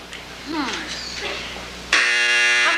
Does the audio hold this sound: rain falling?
no